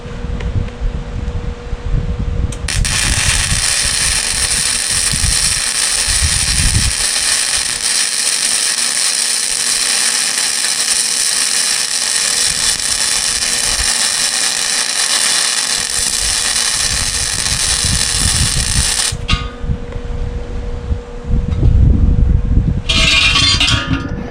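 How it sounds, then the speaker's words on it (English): Vertical weld on a vise stand being built for a Harbor Freight vise: a loud, steady, close crackling hiss runs unbroken for about sixteen seconds after a brief lead-in, then gives way to scattered shop noise. "Quick little vertical weld."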